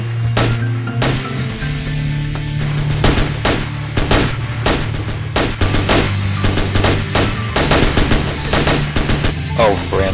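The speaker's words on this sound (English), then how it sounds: "we're taking fire from across the airfield" Gunfire cracks out across an airfield in a military game battle, with loud repeated single shots and bursts at irregular intervals and a low engine drone underneath.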